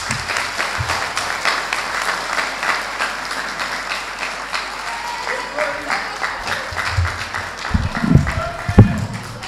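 A room full of people applauding after a debate, sustained clapping that swells and fades, with a voice speaking briefly near the end.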